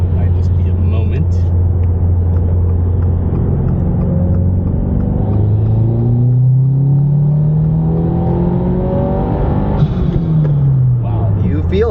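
A 2022 Subaru WRX with an ethanol tune accelerating on the highway, heard from inside the cabin as a loud droning engine whose pitch climbs steadily with road rumble underneath, while people talk over it.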